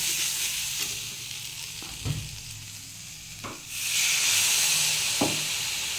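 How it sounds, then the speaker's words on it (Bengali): Chicken masala sizzling in a pan after a splash of water is added, a hissing fry with a few scraping stirs, swelling louder toward the end. "হালকা সামান্য পরিমাণ মতো একটু জল দিয়ে মশলাটা ভালো করে কষিয়ে নিচ্ছি"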